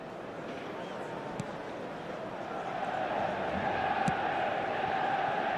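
A large stadium crowd roars in a video game football match, a steady dense wash of noise that swells louder halfway through, with faint thuds and occasional sharp clicks in the mix.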